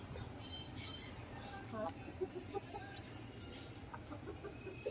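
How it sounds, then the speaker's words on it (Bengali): Silkie chickens cluck in short, repeated bursts close by, over a steady background of farmyard ambience. "তুমি সিল্কি মুরগি গুলাকে বের করতে হবে"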